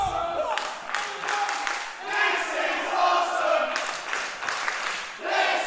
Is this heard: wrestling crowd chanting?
yes